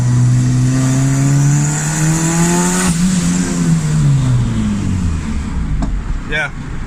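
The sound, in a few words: turbocharged Honda Civic D16 engine revving into boost cut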